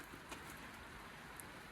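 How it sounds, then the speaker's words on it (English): Heavy rain falls steadily outside a flooded workshop, a faint continuous hiss with a few scattered drop ticks, no voices. "Hammering down with rain again."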